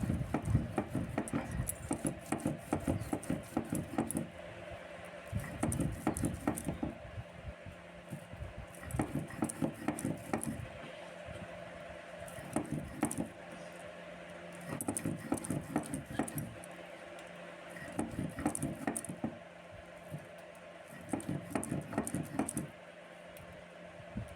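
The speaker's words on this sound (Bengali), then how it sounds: "এবার সর্ষেটা বাটছি শিলে।" Mustard seeds ground on a stone slab with a grinding stone: quiet rhythmic scraping and rolling strokes in repeated bursts with short pauses, close by, with no speech.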